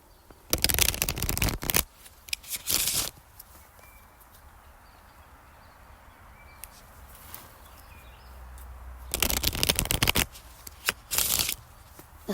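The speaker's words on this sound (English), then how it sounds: "And I got to shuffle the cards, too." Playing cards are shuffled in two rapid riffling bursts near the start and two more near the end, close and crisp, with quiet gaps between them.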